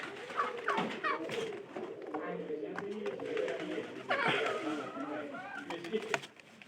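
Several pigeons coo in low, rolling murmurs close by, overlapping one another continuously, with faint rustling and a voice now and then in the background.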